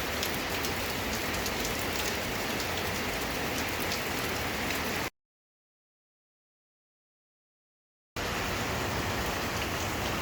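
Steady rain falls in Lonavla during the monsoon, a dense, even hiss of drops on surfaces with no talking. It cuts to silence for a few seconds partway through, then resumes at the same level.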